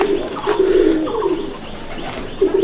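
Pigeons in a loft coo in soft, rounded repeated phrases, a few close calls overlapping in short bursts with brief pauses, and no talking over them.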